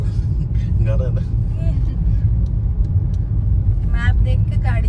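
Steady low road rumble of a car driving through Daman fills the cabin, continuous and fairly loud, with people talking over it.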